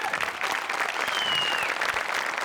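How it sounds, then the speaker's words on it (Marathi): A live audience at a comedy show claps loudly and steadily for the art department, a dense even patter throughout with no voices. "आर्ट डिपार्टमेंटसाठी एकदा जोरात टाळ्या वाजवूया"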